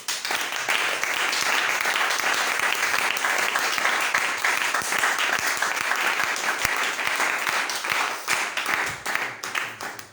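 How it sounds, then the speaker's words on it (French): A church congregation at a Bible seminary bursts into sustained, dense applause, many hands clapping loudly and evenly for about ten seconds before tapering off at the end. "qu'il acclame le Seigneur"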